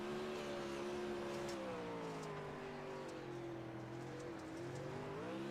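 On-board sound of a sprint car at Lernerville racing with the engine at full song, a loud steady high-revving drone whose pitch sags and climbs through the corners, with no voices.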